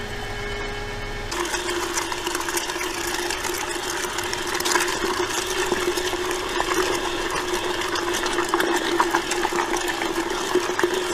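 A horseradish grinder chews through roots fed in slowly, giving a steady, loud mechanical whir with a rattling, engine-like drone that starts abruptly after a quiet moment and runs on without pause.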